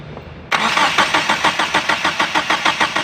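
Cranking of a Mitsubishi Adventure with a 4G63 engine that is failing to start, a steady rhythmic starter whir pulsing about four times a second, loud and close, running alone for several seconds.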